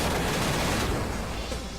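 Particle Beam attack from the Final Fantasy III video game, a dense, continuous roar of crackling, burst-like blasts filling the whole moment at steady loudness with no voices.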